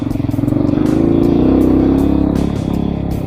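A Hawk 250 Chinese motorcycle engine sits in neutral, idling with a loud, steady, buzzy throb that swells slightly and then settles.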